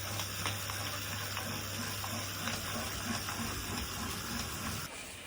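Steady whirring chain and drivetrain noise from someone pedaling on a Wahoo KICKR CORE 2 bike trainer, a continuous even hum with faint rhythmic ticks, fairly close and consistent throughout.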